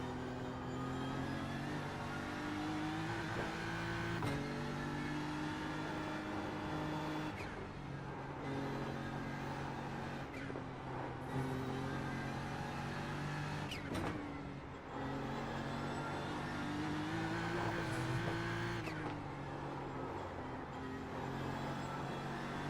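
A race car engine in a racing video game holds a steady, droning whine, rising and falling with several gear shifts and brief throttle lifts over a long stretch.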